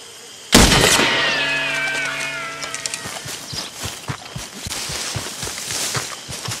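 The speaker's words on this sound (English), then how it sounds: "And Arthur wants to shoot that bell." A single loud gunshot rings a bell by a gazebo at Shady Belle in Red Dead Redemption; the metallic tone sustains for a couple of seconds, then a string of faint clicks and light ambient noise follows.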